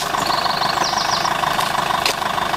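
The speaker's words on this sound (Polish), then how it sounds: "jak na 20-letniego turbodiesla ten silnik pracuje bardzo jak aksamitnie, a jego dźwięk jest" A 20-year-old Citroen C8 2.0 HDI turbodiesel running at idle with the bonnet open, a smooth, steady, loud close-up hum with faint high whines and one brief tick.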